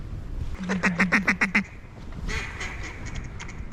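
A rapid series of about seven loud nasal duck quacks from a call during a duck hunt in Arkansas, close by, then fainter quacking and rustling in the background.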